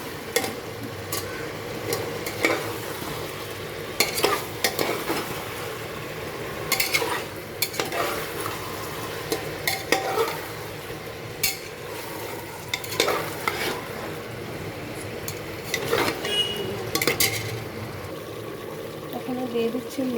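Potatoes sauté in a pan for chicken curry. A continuous moderate sizzle is broken by frequent stirring scrapes and utensil clinks, with quiet talking now and then underneath.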